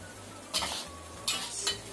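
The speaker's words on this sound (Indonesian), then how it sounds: "Kita aduk rata." Stirring potatoes and tofu with soy sauce in a pan makes brief scraping, sizzling strokes. There are three short bursts against a quiet kitchen background.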